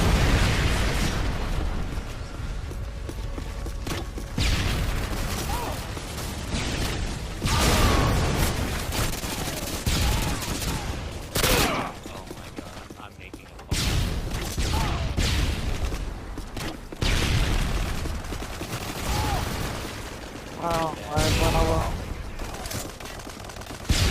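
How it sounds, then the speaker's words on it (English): Repeated loud explosions and bursts of gunfire from a Modern Warfare 2 online Domination match, booming irregularly throughout with dense battle noise and no talking. "Listen to the explosions in the background."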